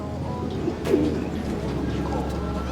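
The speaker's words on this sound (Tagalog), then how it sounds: "Yan yung mga kalapati natin na kagagaling sa champion." A racing pigeon gives a soft, low coo once amid a steady background hum, with a brief clatter just before it.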